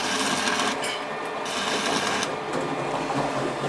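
Repaired welding machine running at maximum voltage during a test check: a loud, steady, crackling mechanical buzz that continues without break, close by, with no talk over it.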